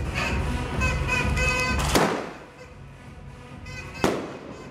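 New Year's Eve fireworks crackle in a dense, fizzing burst, then a sharp loud bang, a quieter stretch, and another crisp bang near the end.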